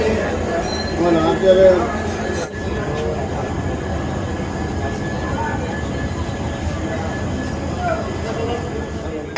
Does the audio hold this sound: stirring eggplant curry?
no